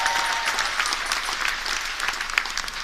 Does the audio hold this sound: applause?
yes